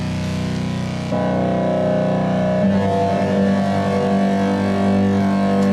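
Heavily distorted accordion chords drone and shift, smeared by bouncing ping-pong delay echoes, with a gritty, buzzing texture from an Incinerator distortion plugin that thickens partway through.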